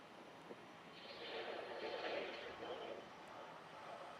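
Airliner departing Charlotte-Douglas airport: a distant jet engine roar that swells and fades over a few seconds beneath a breezy background hiss, heard from afar.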